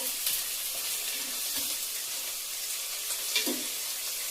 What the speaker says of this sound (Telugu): పచ్చి వాసన పోయే వరకు బాగా ఫ్రై చేసుకోవాలి